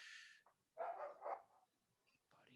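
Dogs bark in a few short, separate bursts at moderate distance, sounding faint against a quiet background, with no talk over them.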